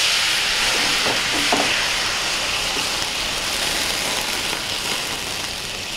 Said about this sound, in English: Since they're about done, I'm gonna add a little bit of white wine to it.